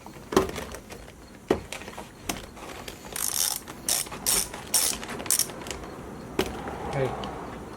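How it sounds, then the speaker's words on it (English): Close, clicking ratchet with a 12mm socket removing salvaged wheels for a DIY camera dolly, scattered clicks and knocks at first, then a run of rapid ratcheting bursts, with faint talk in the background. "Going to take all the wheels off. To get it off is a 12mm socket."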